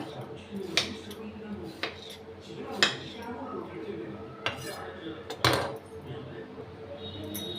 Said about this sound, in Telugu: ఇలా అయితే మొత్తం మనం ఇవన్నీ కట్ చేసుకోవాలి పీసెస్ కింద.